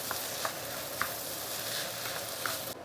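Seafood fried rice being stirred in a hot pan, a steady close sizzle with a few soft scraping strokes of the spatula at irregular intervals.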